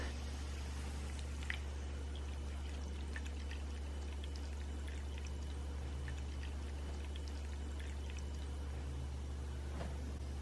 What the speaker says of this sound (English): Adding the salty water.